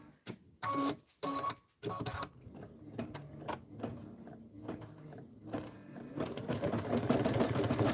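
A sewing machine stitching through thick quilt layers, loud and labored with a whirring mechanical drone and heavy knocking bursts, close by and heard alone.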